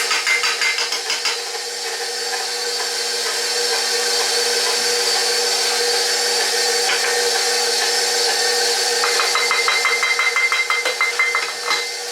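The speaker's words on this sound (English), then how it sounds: "Now this I want to add while the mixer is running." An electric stand mixer runs on low, churning dough with a steady whirring drone and faint rhythmic rattling throughout, close and unbroken, with no talk over it.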